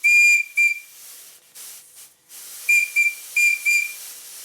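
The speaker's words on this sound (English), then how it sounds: "Time now to test the installation using my compressed air line." A small steam whistle on a vintage model traction engine is blown with compressed air instead of steam. It gives several short, shrill toots in two groups, with a hiss of escaping air between blasts, loud and close, with no talking.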